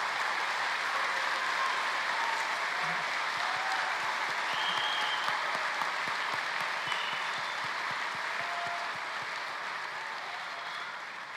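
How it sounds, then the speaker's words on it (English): Sustained applause from a large audience at a high school graduation ceremony, steady even clapping from many hands that carries on and slowly fades toward the end. "Please join me in a round of applause."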